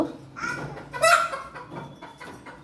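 Chickens kept in a wire rack on a home farm cluck and squawk close by in short, uneven bursts, one louder call near the middle, with no talking.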